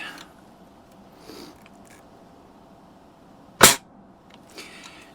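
A single sharp crack from a Daisy 120 pellet rifle fired at Halloween targets, close and loud against a quiet outdoor background with faint rustling before and after.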